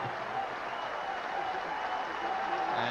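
A baseball stadium crowd in Philadelphia applauds and cheers for pitcher Mark Leiter during a 1997 game against San Diego, a steady dense roar of clapping with an announcer talking over it.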